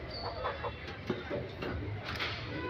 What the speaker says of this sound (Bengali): এখানেও একটা মুরগি আছে